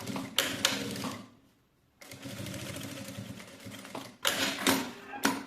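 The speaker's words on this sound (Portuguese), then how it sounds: "E vamos fazer a costura de 1 centímetro." A sewing machine stitches a 1 cm seam in oilcloth, running in close mechanical bursts with a rapid steady rattle, pausing briefly, then running again.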